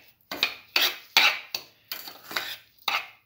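A spoon scrapes and stirs sugar in a pan over a low flame, about eight distinct rhythmic strokes with short pauses between them, close and clear with no talking.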